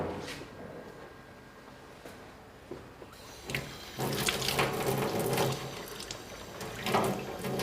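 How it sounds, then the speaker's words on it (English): Cold water runs from a tap during home brewing, a steady splashing stream that grows louder and fuller partway through, with faint clunks and no talk. "a little bit of cold water in that"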